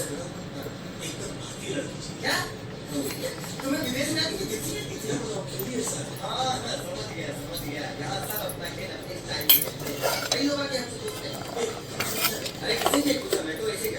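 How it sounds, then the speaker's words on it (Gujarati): Nan khatai dough being mixed with Amul ghee in a bowl, with soft clinks and scrapes of a spoon against the dish, close by, under a voice talking through much of it. "બસ આ બધું ઘી સાથે એને મિક્સ કરો."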